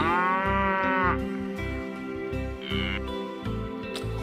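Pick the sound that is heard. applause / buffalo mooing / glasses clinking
buffalo mooing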